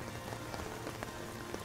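Heavy rain falling steadily during a fiesta in Naga, a dense constant hiss with scattered close drops pattering on a surface, no voices.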